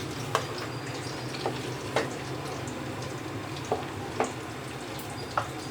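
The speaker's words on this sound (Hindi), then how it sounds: "लहसुन और अदरक को डाल के थोड़ा सा भून लेते हैं" Steady sizzling of garlic frying in hot oil, with a few scattered clicks and pops over a constant crackling hiss.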